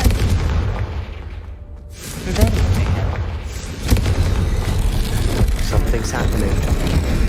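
A Confringo fire spell blasts in the wizarding video game Hogwarts Legacy, giving loud booming explosive bursts with rumbling impacts across the scene, mixed with game sounds and some voice.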